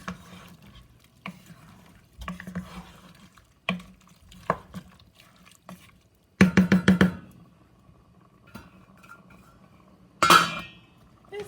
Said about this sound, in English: I'm going to stir that up and then cover up the pot and cook it again for another